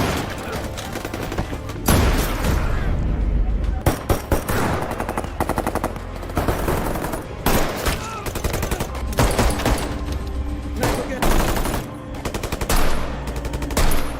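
Heavy weapons and sniper fire in a bank robbery shootout from a crime film, with dense machine-gun bursts and rapid gunshots running loud and continuous, broken by brief pauses.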